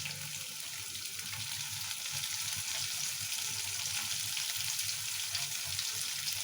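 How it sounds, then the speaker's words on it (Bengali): Potatoes and chopped onion frying in oil make a continuous, even sizzle with a low bubbling undertone, steady and close throughout. "এইবার ভালো করে আলুটা ফ্রাই করব।"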